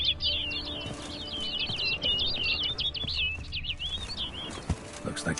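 Rapid, high twittering bird calls in The Witcher 3: Blood and Wine run in a dense chain for a few seconds, then thin out into scattered chirps and a soft flutter over quiet background ambience.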